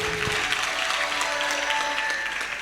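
A church congregation applauds during a Sunday service, steady dense clapping from many hands filling the room, loud and continuous, with faint singing or voices beneath.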